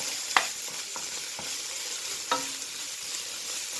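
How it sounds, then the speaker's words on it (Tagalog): Onions, garlic and ginger for pinakbet sizzle in a pan while being stirred, a continuous soft fry broken by a few sharp utensil scrapes and taps against the pan, close and without any talk. "Ihalo natin na mga sibuyas, bawang at ang luya."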